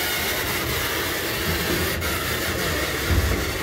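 A train rolls steadily past in Kearney, Missouri, a continuous loud rumble of wheels and railcars with faint clatter, close by and without pause.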